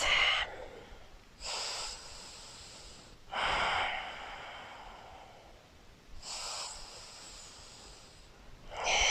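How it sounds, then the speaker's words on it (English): Slow, steady breathing during a full-body yoga stretch, close and soft, with long airy inhales and exhales repeating every couple of seconds and quiet pauses between them. "Maintaining those slow and steady breaths"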